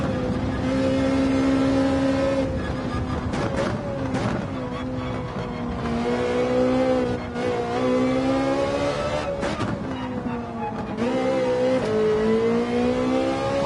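A race car in Gran Turismo 7, its engine whining loudly and continuously, with pitch climbing and dropping sharply at several quick upshifts across the stretch.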